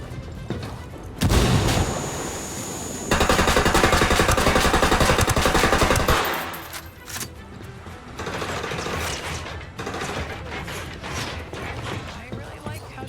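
A grenade blast and a burst of gunfire ring out in the Ghost Recon video game: a sharp boom, then several seconds of loud, dense firing that fades into quieter rumbling and scattered shots.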